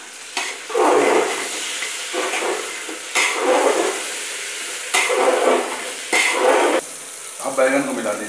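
Mixed vegetables with tomatoes frying in a pan, loud sizzling that swells in repeated bursts as the spoon stirs and scrapes the pan at close range.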